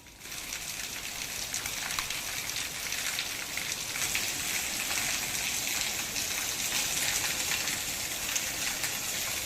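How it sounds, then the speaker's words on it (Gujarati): Light rain falls with wind in Upleta, Rajkot, Gujarat, a steady, even wash of soft patter and hiss that holds at moderate level without pause. "ઝરમર વરસાદની શરૂઆત અને ધીમી ધારે વરસતો આ વરસાદ"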